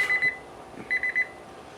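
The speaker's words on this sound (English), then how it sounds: "Of course, it's going to set that alarm off." Two quick bursts of high electronic beeping from a smoke alarm set off by a smoker cooking chicken, each a rapid run of four or five pulses, loud and close.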